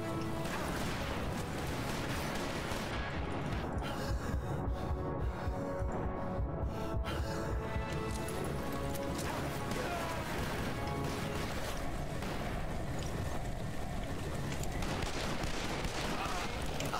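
Dense gunfire from the Western shooter game Call of Juarez: Bound in Blood, with rapid overlapping shots and crashes running steadily over a busy game soundscape.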